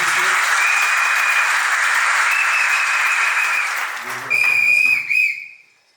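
Wedding guests applaud at a civil marriage ceremony in Libreville, a loud sustained burst of clapping with a steady whistle over it, fading out, then a brief renewed flurry before dying away.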